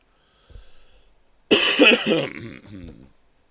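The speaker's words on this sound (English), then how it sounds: "Yes, enjoy my coughing." A few coughs burst out close and loud after a faint throaty sound, a hard cough cluster followed by a rougher, fading tail, with no speech.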